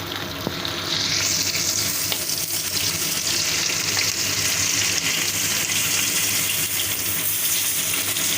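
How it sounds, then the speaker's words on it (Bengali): Rohu fish pieces fry in hot oil while being turned to brown, a loud continuous close-up sizzle that swells after the first second and stays steady, with no talk. "এইভাবে মাছটাকে আমি উল্টে পাল্টে ব্রাউন করব, কেননা ভেতরটা ভালোভাবে ভাজা যায়"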